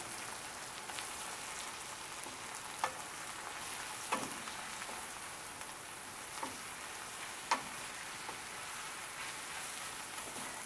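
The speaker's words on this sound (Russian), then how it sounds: "Жарим до тех пор, пока наши грибочки уменьшатся в объеме." Mushrooms fry in a pan for a mushroom soup with processed cheese, giving a quiet, continuous sizzle and crackle with occasional faint pops and stirring taps.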